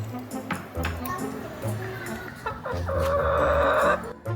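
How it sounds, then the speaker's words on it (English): Several chickens in a village yard cluck and murmur nearby in a repeated low rhythm, with a voice speaking over them. "There are even live chickens in my yard."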